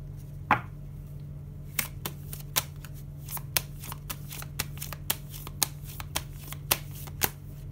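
Oracle cards being shuffled by hand, a series of soft riffles and sharp card snaps repeating irregularly over a low steady hum, close and fairly quiet.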